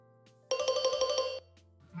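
A phone ringtone plays a quick bright melodic burst for under a second, clear and close, over a low background hum.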